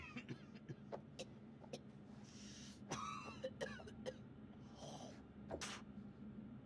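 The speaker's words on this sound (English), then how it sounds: "That's a nasty cough." A character in the video game House of Ashes coughs and clears the throat several times, harsh bursts spaced irregularly over a low background hum.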